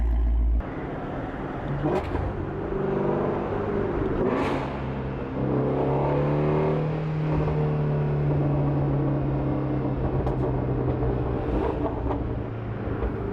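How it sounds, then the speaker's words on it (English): A Ford Shelby GT350 exhaust drones steadily while driving, its low engine note rising and falling through shifts in load, heard from inside the car with a faint whir and no talk. "But listen to that exhaust note. She still sounds good."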